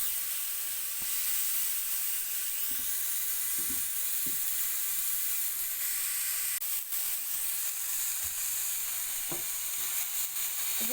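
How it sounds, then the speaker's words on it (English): Tomatoes fry and char in a hot pan with a steady bright sizzle, broken by occasional soft pops and low thumps as they blister and burst. No one speaks. "Just let the tomatoes start to char and burst."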